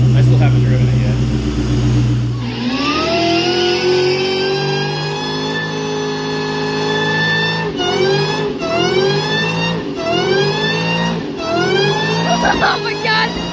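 A Ford SVT Cobra V8 revs loudly and close by: a low idle leaps into a rising roar at about two seconds, then several hard rev-and-drop blips follow in quick succession.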